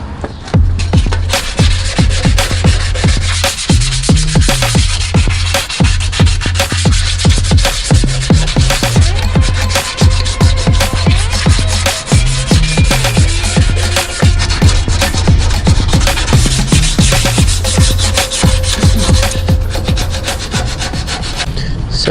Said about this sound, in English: So I'm gonna sand it down with 600 grit, and I'm just gonna primer it up and then resand everything again.